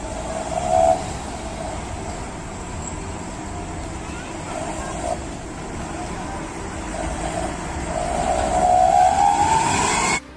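A train in Sri Lanka rumbles steadily with a continuous loud rolling roar, a brief squeal near the start and a rising metallic screech toward the end before cutting off, with voices faintly under the noise.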